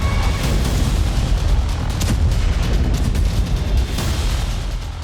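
Israeli air force bombing in Gaza, heard as a loud, continuous roar of explosions and rumbling blasts with a few sharper cracks, filling the whole stretch without pause.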